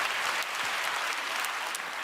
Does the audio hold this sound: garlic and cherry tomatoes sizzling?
no